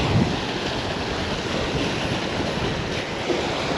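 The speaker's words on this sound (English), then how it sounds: "we got that south wind coming at us right now" Strong south wind blows across open water at a lake while fishing, a loud steady roar of gusts buffeting the microphone alongside rushing waves, continuous with no pauses.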